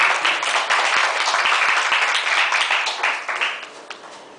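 An audience claps and applauds at a Talysh poetry reading, a dense burst of clapping that carries on for several seconds before thinning out and fading near the end.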